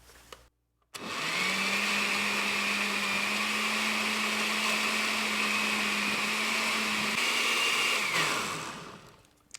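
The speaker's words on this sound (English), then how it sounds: "I'm just going to put the lid on and blend this up" A blender whirs steadily at full speed for about seven seconds, liquefying a cucumber and jalapeño paleta mixture, then spins down. It is loud and constant, with a steady motor hum.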